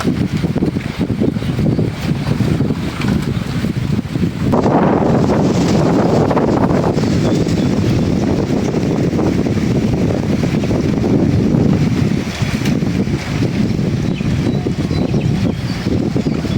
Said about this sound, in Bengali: অনেক বাতাস বইতেছে